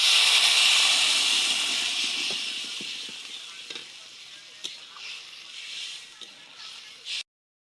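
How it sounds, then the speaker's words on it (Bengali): Loud sizzling and hissing as water is poured into a pan of frying fish curry, strongest at the start and then settling into a softer, steady bubbling sizzle with a few clinks of utensils; no talking. "এবার জল দিয়ে দিব পরিমাণ মতো"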